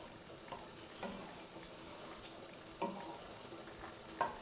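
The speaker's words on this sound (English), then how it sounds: "little stir. Just keep that over a low heat." Lobster carbonara stirred in a pan over low heat, with a faint, steady low sizzle and a few soft spoon scrapes spaced a second or so apart.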